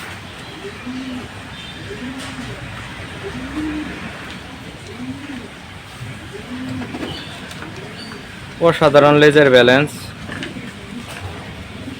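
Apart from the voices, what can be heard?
racing pigeons cooing in a loft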